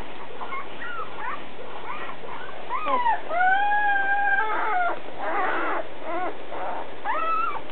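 Week-old Alaskan Malamute puppies, eyes still closed, whimper and squeal in a run of thin, rising and falling cries, close up and fairly loud over a steady background hiss.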